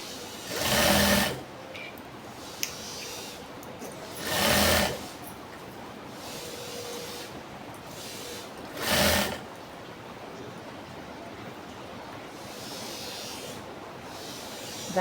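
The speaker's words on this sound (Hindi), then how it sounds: "इसको एक सिलाई लगा लेंगे सीधी" Short bursts of a sewing machine stitching a ladies' collar shirt, three separate whirring runs of about a second each, separated by quiet pauses, close and clear with no talking.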